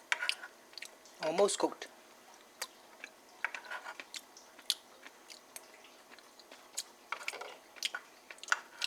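Soft, wet chewing and small crunches while tasting South Indian tomato rice, close and intermittent, with a brief spoken remark near the start.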